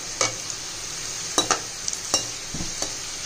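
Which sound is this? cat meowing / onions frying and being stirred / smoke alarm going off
onions frying and being stirred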